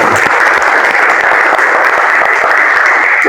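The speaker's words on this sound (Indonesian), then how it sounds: "Tepuk tangan untuk Viko" Loud, close applause for a student named Viko in an Islamic education classroom in Indonesia, continuous dense clapping filling the whole moment with no voices.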